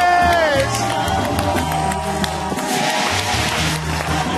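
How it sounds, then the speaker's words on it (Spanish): A studio audience at a televised semifinal cheers and claps for a band as it finishes, a loud, dense roar with whoops and whistles running throughout, while voices and music carry underneath. "Fuerte aplauso para ustedes"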